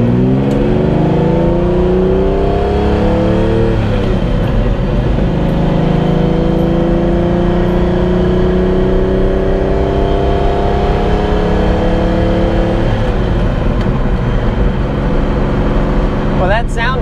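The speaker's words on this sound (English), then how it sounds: "Well, that sound never gets old. That's pretty nice. No, it's a wonderful thing there, the Italian open pipe symphony." A Lamborghini Countach LP5000 with downdraft carburetors and open pipes revs hard, its loud engine note rising and falling through several sweeping climbs, close and sustained, with a brief sharper burst near the end.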